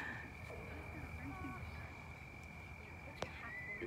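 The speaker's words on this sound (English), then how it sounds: "You hear all the crickets" Crickets on a quiet night by a fire, a steady high chirring drone running throughout, faint and distant, with a low murmur of voices and a brief sharp click near the end.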